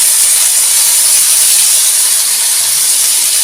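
Tomato and onion frying in oil on a hot dosa griddle give a loud, steady, close sizzle that holds an even hiss from start to finish, with no voices.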